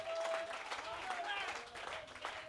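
Applause and clapping from a church congregation mingle with voices and cheering, a dense continuous patter at moderate distance.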